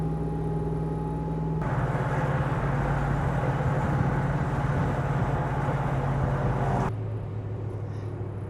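A modified truck engine idles with a deep, steady rumble, swelling louder for several seconds as it is revved and then settling back to idle, with no talking.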